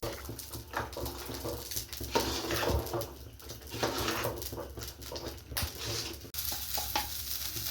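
Dried chili, bay leaf, ginger and five-spice sizzle steadily in hot mustard oil for khichuri, a continuous dense crackling hiss with some irregular bursts and no talk.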